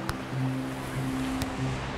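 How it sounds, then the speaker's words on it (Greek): Waves breaking on a sandy beach, a soft, continuous wash of surf with a faint low tonal hum underneath and a couple of brief clicks. "Ακούς το κύμα που σκάει στην άμμο."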